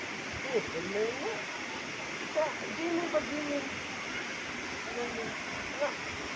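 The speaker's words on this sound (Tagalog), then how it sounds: "Ito naman yung falls. Ito yung talon guys, oh." Togonan Falls pouring in a steady broadband rush, water noise filling the scene throughout, with people talking intermittently over it.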